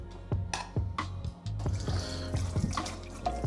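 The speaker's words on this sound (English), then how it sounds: "Nice steady stream of water here." A DXV Etre kitchen faucet runs a steady stream into a sink, with splashing and intermittent clinks and knocks close by, and no talk.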